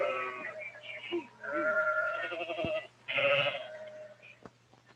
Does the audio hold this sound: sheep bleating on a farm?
yes